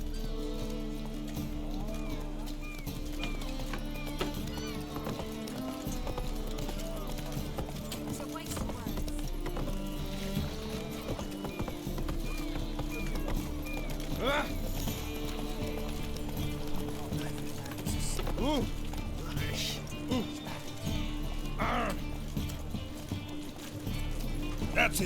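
Roach, a horse in the video game The Witcher 3, gallops with steady clip-clop hoofbeats under a continuous music bed, with a voice talking at times.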